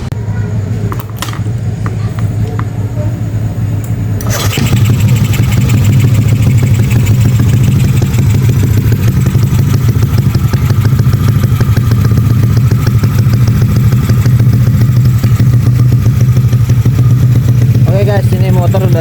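A Yamaha Aerox 180cc bore-up scooter engine with an RX7 63 piston block, rebuilt and rough-running, starts and idles steadily and loud after a few clicks and rattles, a continuous close-up drone under occasional voices.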